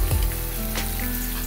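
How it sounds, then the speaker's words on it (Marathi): Finely chopped onion, three medium onions, drops into hot oil in a home kitchen with a sharp splash and then a steady close sizzle and crackle, with a little stirring and no voices. "आता आपण त्यात टाकणार आहोत बारीक चिरलेला कांदा।"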